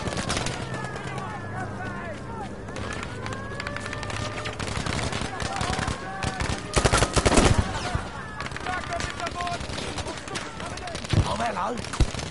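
Rapid bursts of heavy gunfire in Battlefield V's single-player campaign, an anti-aircraft cannon firing repeatedly amid explosions, with people talking over the action.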